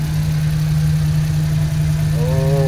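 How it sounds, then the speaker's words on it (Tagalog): A Suzuki Multicab engine idles steadily with a low, even hum and faint knocking texture, close by and constant, with a brief higher tonal whine near the end. "At yung makina naman ay hindi magalaw, tining na tining."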